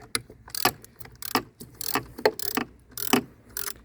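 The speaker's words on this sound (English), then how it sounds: "All the bolts are coming out pretty easy." Bolts being loosened and backed out of the trim pump on a Mercury 150 four-stroke outboard, giving close, irregular bursts of metallic ratcheting clicks and tool rattles with short pauses between them.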